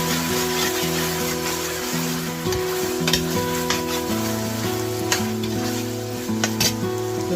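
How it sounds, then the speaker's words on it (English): Beef seasoned with salt sizzles steadily in a pot for a vegetable soup, a loud, continuous frying hiss with occasional stirring knocks and scrapes, over a faint low tonal hum in the background. "our meat is sizzling right now"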